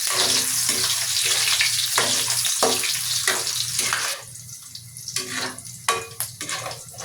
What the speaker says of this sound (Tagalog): Iprito muna natin yung hotdog, wag lang masyadong toasted.